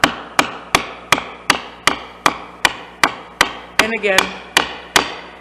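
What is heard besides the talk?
hammer gently tapping down while paring wood dovetail tails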